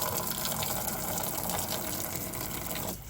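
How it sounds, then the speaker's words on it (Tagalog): Water sprays hard from a low-budget expandable magic hose used for washing motorcycles, a strong continuous rushing gush that drops off and softens near the end. "Medyo hihina rin yung buga ng ating tubig."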